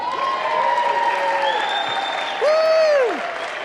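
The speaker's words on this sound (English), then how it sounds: "We have to give you one more standing ovation." A crowd at a children's Christmas program gives a standing ovation, with steady applause mixed with cheers and whoops, and voices calling out over the clapping.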